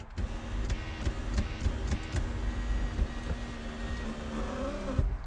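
A junkyard car power seat motor driven by a DeWalt cordless battery hums in a steady mechanical whir with a few sharp clicks and knocks, close and moderately loud.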